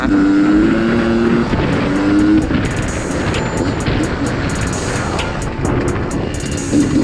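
A Honda CR125 two-stroke enduro dirt bike runs on a forest trail ride in Sa Kaeo, its engine revving loud and close with a buzzing, wavering pitch and some sharp clicks throughout.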